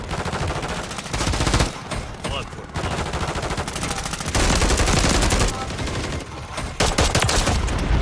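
Heavy, sustained video game gunfire rattles in long automatic bursts with short pauses between, loud and close throughout, with a voice talking faintly underneath.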